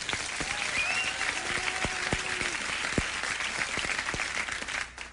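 Studio audience at a late-night television comedy show applauding steadily, a dense, even wash of clapping that holds for several seconds before tailing off at the end.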